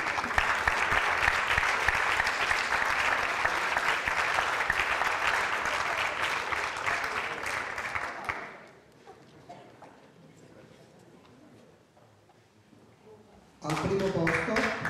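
An audience at a 2008 dance competition award ceremony in Turin applauds loudly and steadily, then the clapping fades to near quiet before a fresh burst of applause starts at the end.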